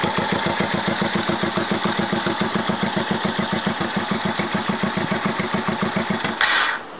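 A mini bike engine with a straight pipe and no muffler idles loudly and close by, a steady rapid chugging pulse that holds for about six seconds before a brief burst of noise.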